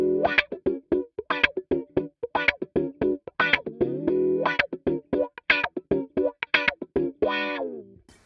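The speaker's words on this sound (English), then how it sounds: "the wah is exactly the sweep that I want" Electric guitar runs through an amp-simulator plugin with a wah pedal sweeping, producing choppy funk strums and short, quacking, filtered chords in a quick rhythmic pattern, loud and close with no talking.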